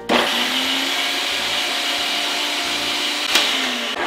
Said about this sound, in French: la machine marche et on y va.